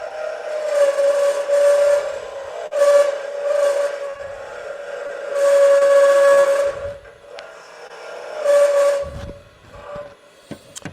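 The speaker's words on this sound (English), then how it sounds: "I'm going to finish this up a little bit with the skew." A skew chisel cuts a wooden ladle spinning on a lathe at a woodturners meeting, giving loud, tonal, whistle-like squeals in repeated bursts of a second or two, broken by brief quieter gaps.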